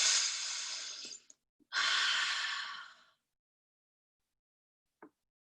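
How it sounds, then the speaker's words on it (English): Two long, loud, close breaths, the first an inhale and the second an exhale like a sigh, are followed by silence and one faint short sound near the end. "Deep breath in."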